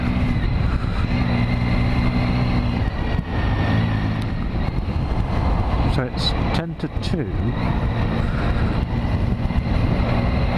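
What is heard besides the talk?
road traffic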